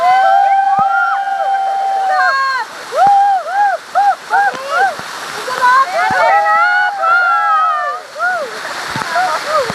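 Agnaim Falls pours as a constant rushing roar of water, nearly drowned out by loud, excited voices of people shouting and calling nearby.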